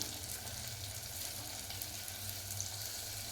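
Tomatoes sauté in oil in a pan for a village-style fish curry, giving a soft, steady sizzle heard close and faint with no voices.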